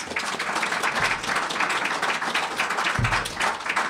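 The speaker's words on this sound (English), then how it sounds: "If you would give them a round of applause, please." An audience at a university community conversation event applauds in a steady, dense round of clapping that holds at even loudness throughout, with a couple of low thumps partway through.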